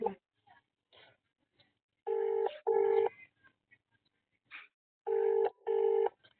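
Phone keypad tones beep briefly, then a ringback tone pulses in two pairs of long double rings, with faint murmurs in the quiet gaps.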